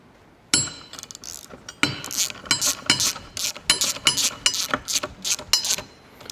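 A socket wrench ratchet on a long extension tightening bolts while assembling a Vevor 11000 lb shop air bag jack, giving close, sharp rhythmic clicking strokes in repeated bursts after a brief quiet start.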